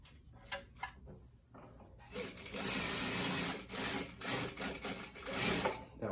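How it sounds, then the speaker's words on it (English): A Consew direct drive single needle lock stitch sewing machine runs in steady bursts of fast stitching, preceded by quieter handling sounds, with a voice speaking over it. "So this is the Consew direct drive single needle."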